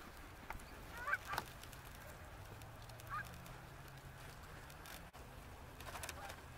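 A flock of geese heard during a Pennsylvania goose hunt honks faintly and intermittently from a distance as the birds come in to land, their scattered calls rising over a steady outdoor hiss.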